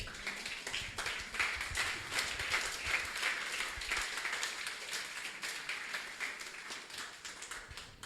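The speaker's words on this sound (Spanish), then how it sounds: "Y el pueblo de Dios dice amén con un fuerte aplauso" A church congregation gives loud applause after a prayer, a steady crowd of many hands clapping for the whole stretch, somewhat distant and even, with no voices over it.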